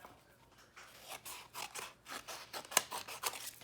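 Scissors trimming paper for an ornament gift box make a series of quiet, close snips and crisp paper rustles, with one sharper cut near the end.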